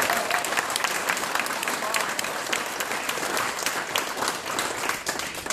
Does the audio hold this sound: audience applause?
yes